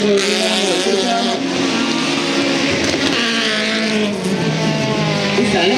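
Race cars roaring near at a circuit in Elne, engines loud and continuous with rising and falling pitch under braking, possible tire scrub mixed in, while a commentator talks over the noise.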